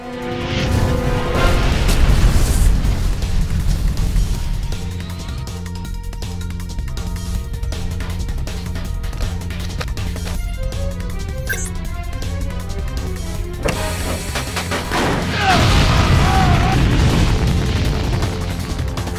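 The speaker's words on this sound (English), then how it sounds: "Our current vector has taken us directly into an uncharted asteroid field. Collision is imminent." Animated-film sound design of a spaceship colliding with asteroids: loud booming impacts and crashes over a dense rumbling score, with a heavy burst early and another surge near the end.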